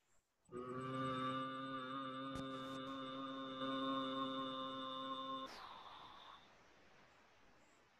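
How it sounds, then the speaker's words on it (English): A sustained hummed Om chant with ears closed, held steady and loud for about five seconds before trailing off into quiet breath and room noise. "So we do the humming noise. So we actually chant Om, or it could be a just hum."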